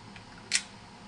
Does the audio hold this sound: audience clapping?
no